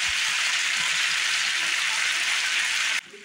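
Potatoes pan-frying in a skillet, a dense, loud, steady sizzle that drops off abruptly near the end, with no talking.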